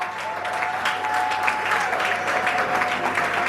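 An audience applauds steadily and fairly loudly as the man of the evening takes his seat at a dance party, with a sustained tone running faintly underneath the clapping.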